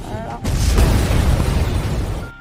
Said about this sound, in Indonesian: tidak menyadari ada gas bocor sehingga ledakan pun terjadi